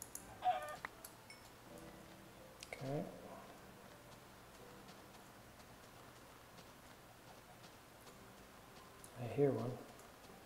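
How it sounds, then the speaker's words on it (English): A few chickens cluck in brief, scattered bursts, one near the start, one around three seconds and a louder one near the end, against a quiet outdoor background. "I see some chickens."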